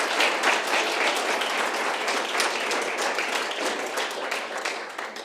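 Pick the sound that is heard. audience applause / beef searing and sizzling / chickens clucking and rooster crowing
audience applause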